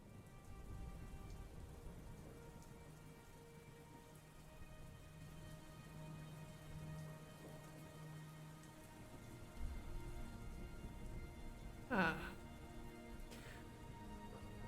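Recorded rain sounds playing softly, a steady hiss of falling rain with a faint thunder rumble, beneath quiet background music tones and a brief clatter near the end.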